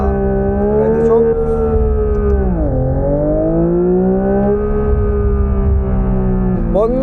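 Genesis Magma car engine revving up to the red zone, a loud steady harmonic drone that rises, dips briefly near the middle and climbs again, continuous with no talk over it.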